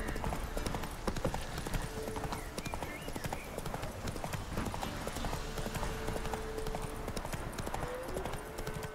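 Geralt's horse Roach galloping in The Witcher 3, a steady rapid clip-clop of hooves on the ground running the whole time, loud and close over a constant rushing background, with no talking.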